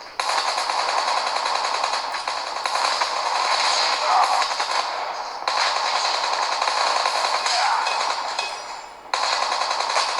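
Rapid automatic gunfire from a Call of Duty match played on a Realme 5i phone, dense sustained bursts filling nearly the whole stretch, with brief breaks around the middle and near the end.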